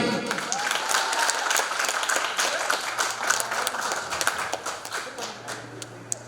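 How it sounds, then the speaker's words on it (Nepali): Enthusiastic audience applause at a singing competition grand finale, a dense, sustained wash of many hands clapping that slowly thins toward the end, with a few sharp claps and faint crowd voices mixed in. "एकचोटि जोरदार ताली"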